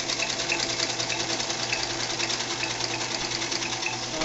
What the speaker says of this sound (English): This is my little sewing machine I've had since I was 15 years old, a little Singer.